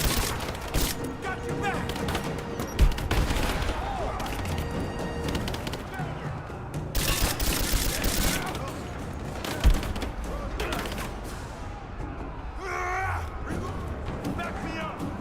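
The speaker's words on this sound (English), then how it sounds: "Gunner, keep firing!" Gunfire in Rise of the Tomb Raider on Extreme Survivor difficulty, bursts of loud rapid shots and booms scattered across a firefight, mixed with shouted soldier voices and other combat noise.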